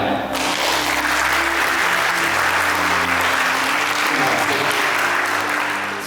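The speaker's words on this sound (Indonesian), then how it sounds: "Beri tepuk tangan." Loud, dense, sustained applause from the audience at a motivational speaking event, the AoC Championship 2018, steady throughout with a low musical hum underneath.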